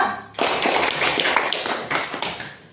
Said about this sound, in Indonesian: Nah, tepuk tangan untuk kelompok 2.